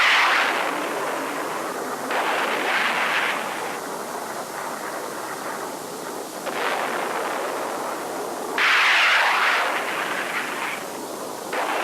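Explosions from tactical airstrikes in 1960s Vietnam War military footage, a continuous loud rumbling barrage with repeated bursts swelling and fading, no voices.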